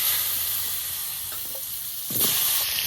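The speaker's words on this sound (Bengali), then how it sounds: "এবার আমি আলু ভেজে নেব মাছের ঝোলে" Potatoes with salt and turmeric fry in hot oil for a chital fish curry, a steady close sizzle, with a louder burst of crackling spitting near the end.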